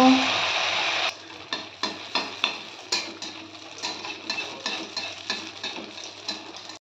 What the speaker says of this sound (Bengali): এভাবে আমি সমস্ত মালপোয়াগুলোকে ভেজে নেব